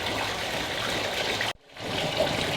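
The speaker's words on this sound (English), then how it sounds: "get your water running" Hot water gushes steadily from a tap, stopping abruptly for a moment before flowing again at the same strength, with no voices.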